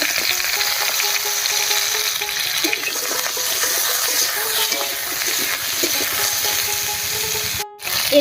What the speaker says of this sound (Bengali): মাছ ভাজার এই তেলেই পটলটাকে আমি হালকা করে ভেজে নেব